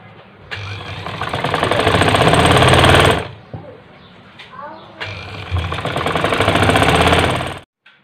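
A sewing machine stitches curtain pieces together in two loud bursts of rapid, even mechanical rattling, separated by a short pause with fabric handling, and stopping abruptly at the end.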